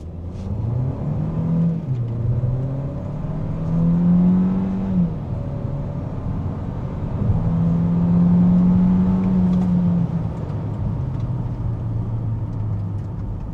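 A Proton X50 SUV accelerating hard from 0 to 100 km/h, heard from inside the cabin as a rising engine drone that climbs in pitch, drops at gear changes and climbs again, steady and fairly loud with no talk.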